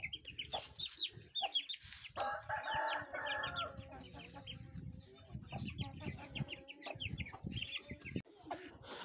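Several Aseel chickens cluck and squawk close by, with Aseel rooster calls mixed in among the busy, overlapping poultry chatter.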